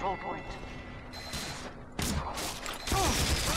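Team Fortress 2 sentry gun firing in the game, rapid bursts of gunfire that grow louder and denser over a few seconds, mixed with game effects and a voice talking.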